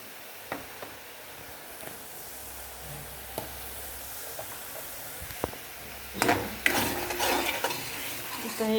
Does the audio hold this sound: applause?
no